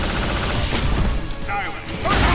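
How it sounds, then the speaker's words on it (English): Iron Man fires his proton cannon in the Marvel vs. Capcom fighting game: a loud, sustained beam blast of dense crackling noise with rapid impact hits, while a character voice speaks over it. "Here's the big one! Proton cannon!"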